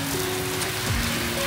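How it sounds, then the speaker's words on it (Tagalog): Heavy rain in Florida pours down as a dense, steady hiss that fills the short stretch, loud and continuous with no gaps. "Oh, ang lakas ng ulan."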